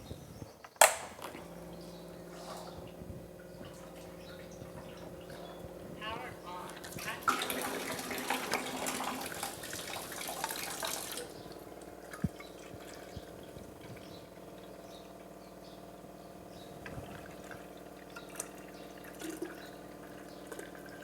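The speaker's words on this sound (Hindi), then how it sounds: "तो अपन अपनी मशीन का लाइव वाटर निकाल रहे हैं।" Water runs from an Enagic Kangen alkaline water machine in a burst of a few seconds in mid-clip, standing out over a quiet background hum.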